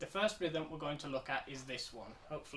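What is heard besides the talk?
No everyday noises stand out.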